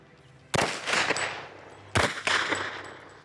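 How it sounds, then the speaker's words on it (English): Automatic rifle fired at a shooting range in two sharp bursts, each a loud crack followed by a rattling run of shots and echo, about 1.5 seconds apart. "All right, so go fully automatic, all the way down, 1, 2. Just hold it to the rear and let it ride"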